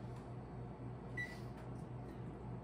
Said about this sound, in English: Then I'm going to set that oven to self-clean.